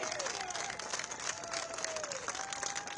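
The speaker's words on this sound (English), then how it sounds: "let's have a round of applause for those who went to the prison" Applause and cheering from a crowd at an outdoor street rally, continuous clapping with a few whistle-like tones rising above it, fairly distant and steady.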